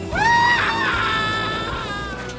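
A loud, high-pitched human scream from the video game 007 Legends, rising sharply then holding a long wavering cry for about two seconds before tapering off.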